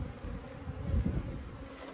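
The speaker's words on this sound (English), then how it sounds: "Because these are Africanized bees" Africanized honey bees hum in a steady low drone during a removal from a water meter box, the buzzing fairly close and continuous with a slight swell midway, no voices.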